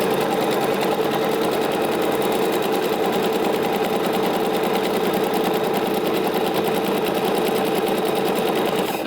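A sewing machine stitches smocking with elastic thread, an even, rapid rattling hum running close and unbroken from start to finish.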